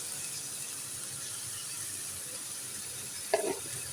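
Garlic-ginger paste and salt sizzle in a hot pan while cooking masoor dal tadka, a steady soft hiss throughout with a brief louder stir or clatter near the end.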